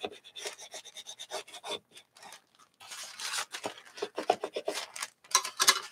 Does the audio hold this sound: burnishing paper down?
yes